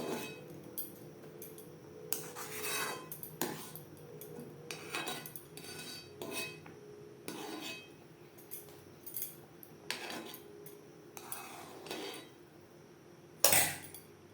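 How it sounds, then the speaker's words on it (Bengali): A spoon skims foam off moong dal boiling in a pot, making repeated metallic scrapes and light clinks against the pot over a low bubbling background, with no talking. "এই পর্যায়ে ডালের ফেনা পরিষ্কার করে নেব"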